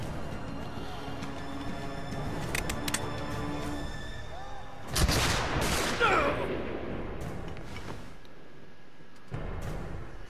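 Gunfire from enemy soldiers in Assassin's Creed Brotherhood, bursts of shots cracking through steady game ambience, with a louder cluster of blasts in the middle and another burst near the end.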